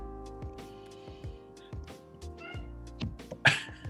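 A pet cat meows in a quiet room, a few short nasal calls rising and falling in quick succession, close and fairly soft, ending with a louder sharp cry.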